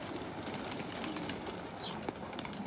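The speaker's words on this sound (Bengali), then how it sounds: "কবুতর, এটা বেশি সুন্দর।" Pigeons coo softly and repeatedly at a downtown resort near Madani, Dhaka, against a steady outdoor background hum, with occasional small bird sounds and a faint clack.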